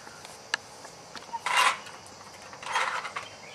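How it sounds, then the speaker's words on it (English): A homemade black walnut cracker machine crunches through a small pecan, with a faint mechanical click followed by two brief, sharp cracking bursts up close. "machine will crack a macadamia nut very easily"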